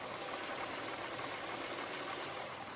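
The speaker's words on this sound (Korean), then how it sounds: "엔진 소음 들려드리면은" A Lexus ES350 engine idles with the bay open, a faint, smooth, steady hum and soft mechanical whir with no knocking or variation, heard alone.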